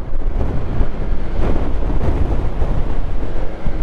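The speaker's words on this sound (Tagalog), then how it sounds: "Lakas pa ng hangin. Medyo mahirap umakyat." Strong wind buffets the microphone during a motorcycle ride up a steep hill in Nueva Vizcaya. The roar is continuous, loud, low and rumbling for the whole stretch, with no clear voices over it.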